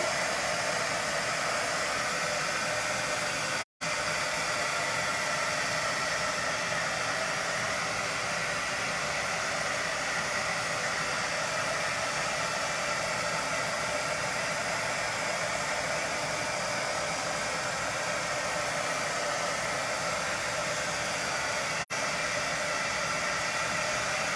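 A hair dryer blows steadily on wet paint, a loud, continuous whooshing hiss that runs throughout with one brief cut-out near the start, with no talking.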